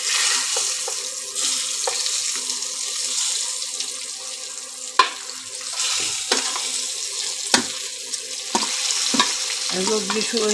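Chilli powder, turmeric and spices being stirred in a pan for mango pickle, with a steady soft sizzle, scraping strokes and occasional sharp clinks of the spoon against the pan, close and continuous.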